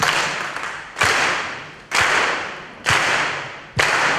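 An audience claps in unison on beats 2 and 4 for gospel music, five sharp, loud, evenly spaced claps in a large hall, each ringing out with a long reverberant tail.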